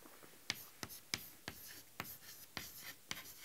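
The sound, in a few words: writing on a board while drawing a hodograph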